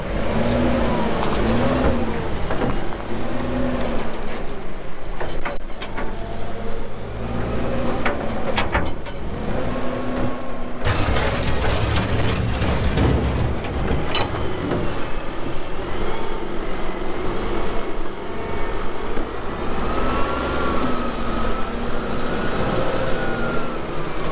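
A loud engine at the back of a farm bedding spreader revs and roars continuously, rising and falling in pitch, close by and steady throughout with no talking.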